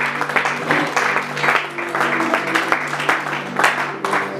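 A congregation at a church service claps in acclaim, with rhythmic bursts of many hands over a sustained tonal background, fairly loud and close.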